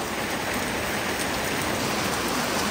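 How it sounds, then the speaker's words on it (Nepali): Heavy village rain falls in big drops, a dense, loud, unbroken roar of downpour on surfaces nearby with no voices over it. "पानी पनि परेको, कत्रो ठुल्ठुलो थोपा परेको पानी पनि, वर्षा भएको छ बवाल ठुलो।"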